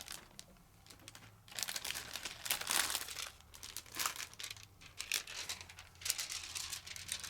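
Foil craft-supply packaging crinkling and crackling as it is opened close by, in bursts of bright rustle with short pauses between handlings.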